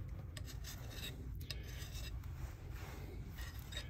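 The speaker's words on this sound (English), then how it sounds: "you got better things to do than watch me file a lug" A hand file rasps steadily across a tin-coated copper battery lug for LiFePO4 terminals, a continuous close scraping of back-and-forth strokes with no talk.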